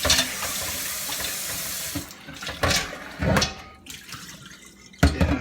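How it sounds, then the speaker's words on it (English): Tap water gushes over a cast iron Dutch oven, a loud steady rush that breaks into uneven splashes and spurts as the pot is turned under the flow. "Give it a little rinse."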